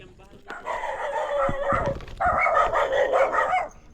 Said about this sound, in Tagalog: Ang dami aso!